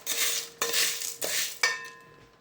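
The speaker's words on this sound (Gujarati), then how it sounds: "આપણે ધીમે ધીમે હલાવતા રહીએ અને જાતે ઓગળશે" A spoon stirs sugar and grated green coconut in a pan for a sweet, making four distinct, close scraping strokes that fade out at the end.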